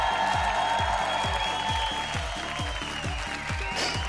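Studio audience applause on the TV singing show ¿Quién es la Máscara? after a performance: steady dense clapping under loud music with a regular thumping beat.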